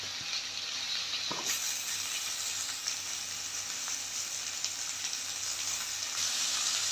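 Leafy greens hit a hot frying pan in a home kitchen. A sudden loud sizzle bursts in and then holds as a dense, steady crackling hiss to the end, with no talking.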